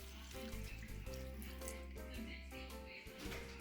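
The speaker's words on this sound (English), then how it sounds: "Alright, we're going to add more chicken broth." Chicken broth pours into a pot in a steady close gurgling stream, splashing continuously for a few seconds.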